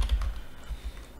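Rapid, uneven typing on a loose, rattly computer keyboard, with irregular clacks close by and fairly quiet, heard alone with no talk.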